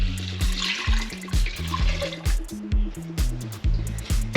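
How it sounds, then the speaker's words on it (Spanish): A liter of milk is poured into a pot on low heat for rice pudding, a close, loud liquid splash and glug that pulses in short bursts with gurgling pauses. "Vamos a verter el litro de leche"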